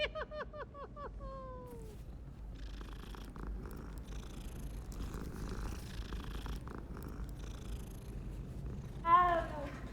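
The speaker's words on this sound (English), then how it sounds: "I'm quite happy I got to pet the cat" A cat in the Hogwarts Legacy video game purring steadily while being petted, a soft continuous rumble throughout, with short meows near the start and again near the end.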